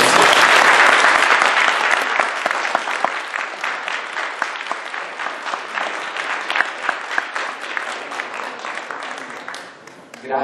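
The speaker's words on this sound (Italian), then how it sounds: "l'applauso era per la presentazione" Audience applause after the introduction of an astronomy lecture on exploding stars, loud and dense at first, then thinning into scattered individual claps that fade toward the end.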